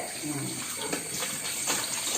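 Water pours steadily with a continuous splashing hiss, close and fairly loud, with no pauses.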